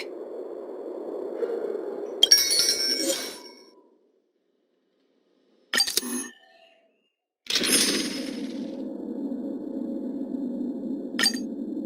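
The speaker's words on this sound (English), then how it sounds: "When you're ready, ring the chime." A chime rung in Honkai: Star Rail sounds as bright metallic clangs with ringing overtones, heard as one strike after a low droning hum. A short clang follows, then another strike that leads into a sustained low drone with a final faint ping.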